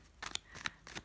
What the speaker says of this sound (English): I started shuffling the cards faster